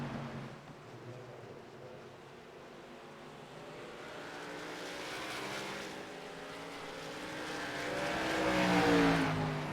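ARCA stock cars racing on track, drivers feathering the throttle on cold tires while exiting a corner; a steady engine roar with wavering revs swells louder toward the end, with no talk.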